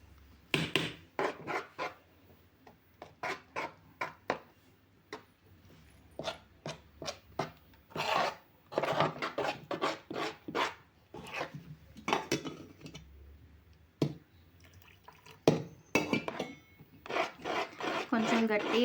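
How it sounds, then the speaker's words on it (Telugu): Cake batter made with baking powder is mixed in a bowl, a spoon scraping and rasping against the sides in quick, irregular strokes, close and clear with short pauses between bursts. "ఇలా మిక్సీ చేస్తూనే ఉండాలి, అప్పుడు బాగా కలిసిపోతుంది"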